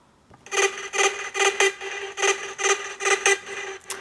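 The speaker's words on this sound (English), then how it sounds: "It's more like the higher pitched lead sound." High-pitched lead synth layer programmed in FL Studio for big room EDM, a bright buzzy tone pulsing in about a dozen rhythmic stabs, played solo and fairly quiet with no voice.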